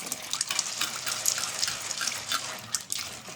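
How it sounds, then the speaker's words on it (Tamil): Water poured over chickpeas in a vessel to soak them in a village kitchen, a steady splashing and trickling stream with small drips, fairly close and alone throughout. "தண்ணி விட்டு நல்ல தண்ணி விட்டு நான் ஊற விட போகிறேன்"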